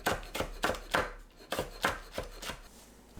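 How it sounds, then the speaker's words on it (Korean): A knife slices green onion and cheongyang chili into rounds on a cutting board. About nine quick, evenly spaced chopping taps sound close and crisp, with no talk. "파, 청양고추를 둥글게 썰어줍니다"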